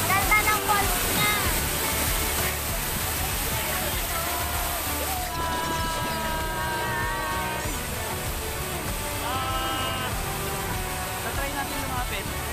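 Daranak Falls in Tanay, Rizal, roaring as a steady, dense rush of falling water that fills the whole scene, loud and continuous, with voices talking over it.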